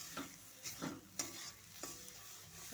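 Ridge gourd mash being stirred in a pan: faint, close scraping strokes of a spatula repeated every half second or so, over a very soft sizzle, with no talk.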